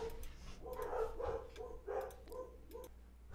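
Dogs bark in a home workshop, a run of roughly six or seven sharp barks in uneven succession, somewhat distant and moderately loud, with no talking over them.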